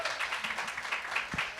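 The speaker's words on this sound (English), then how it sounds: "Give them a round of applause." Brief, moderately quiet applause from a small group, steady clapping with no voices over it.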